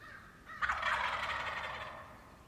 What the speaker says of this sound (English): we're calling to these turkeys, and they start coming in